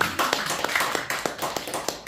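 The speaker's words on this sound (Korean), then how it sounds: "다 같이 박수 한번" A church congregation claps together at a children's Sunday service, a loud, steady run of hand claps at a brisk even rhythm lasting a couple of seconds.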